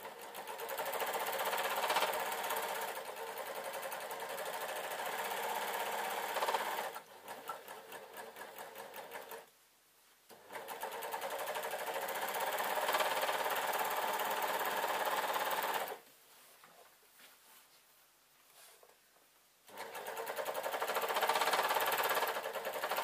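A serger runs in long steady bursts while sewing a denim skirt pieced together from leftovers, its fast rattling hum near and loud, stopping briefly twice before starting up again.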